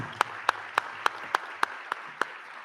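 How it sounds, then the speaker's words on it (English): Applause at a gala auction comes through as sparse, evenly spaced claps, about three per second and distinct like one nearby pair of hands, over a faint steady room background. "How about a nice round of applause?"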